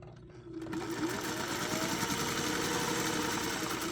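A sewing machine stitches a fabric seam for a needlebook, starting after a brief pause and then running in a steady, rapid mechanical whir close to the microphone.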